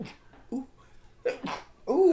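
Several short, sharp bursts like sneezes, roughly three in a row with the last ones louder, with brief exclamations from a person between them.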